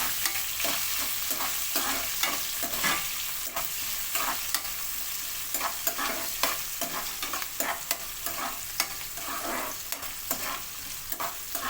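Onions and potatoes frying in a pan for a potato-tomato curry, stirred with a rapid, rhythmic run of spatula scrapes over a continuous sizzle, close and steady throughout with no speech.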